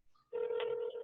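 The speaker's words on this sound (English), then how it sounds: "Okay, that's a ring." A phone ringback tone comes over a speakerphone during a call to a Popeyes restaurant, one steady electronic ring starting after a short quiet lead-in.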